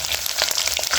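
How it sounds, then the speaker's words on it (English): Pork and vegetables fry in hot oil with a brief burst of dense, crackling sizzle, close and fairly loud, full of rapid pops, with no voices. "Let it cook well, fry well in the oil."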